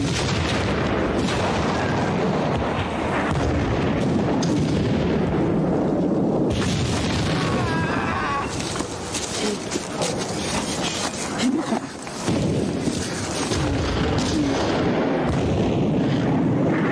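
Artillery cannon fire in a film battle scene, with repeated heavy booms and blasts rumbling over dense battle noise, loud and continuous throughout.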